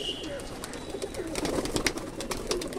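Domestic pigeons coo softly and steadily inside a coop, their low murmuring calls overlapping continuously with faint wing shuffles and a background voice now and then.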